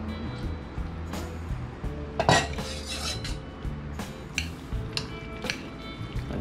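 Metal utensil clinking and scraping against a bowl while mixing sauce for yellowfin tuna, close and irregular, with a few sharper knocks and light kitchen background.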